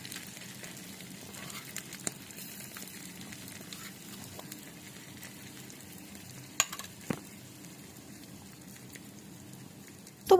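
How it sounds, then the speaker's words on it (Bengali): Spatula working raw small fish and spices around a wok in a mini kitchen, giving a faint, continuous soft sizzle and scraping, with a few sharper clinks near the end. "এবার খুন্তি দিয়ে মশলাটা ভালো করে মাছের উপরে মিশিয়ে দিচ্ছি, যাতে মশলাটা মাছের সাথে ভালো করে মিশে যায়।"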